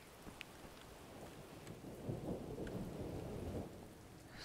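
Steady rain falls in the video game Wolfenstein: The New Order, with low thunder rumbling beneath the hiss. The wash builds a little toward the middle and stays at moderate level, with no voices.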